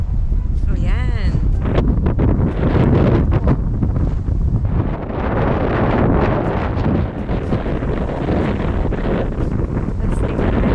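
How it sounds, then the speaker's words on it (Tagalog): Strong outdoor wind in Oklahoma buffets the microphone with loud, low, rumbling gusts that pulse and roar continuously, briefly easing mid-way before surging again, with a voice speaking faintly beneath the blasts. "Yan no, sobrang hangin."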